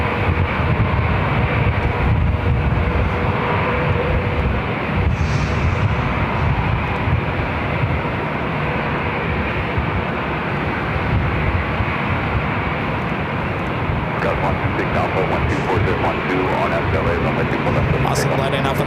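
A Viva Airbus A320 jet departing LAX for Monterrey, Mexico: a loud, sustained engine roar that stays steady throughout, heard from close by with someone talking over it.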